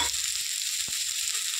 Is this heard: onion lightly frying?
yes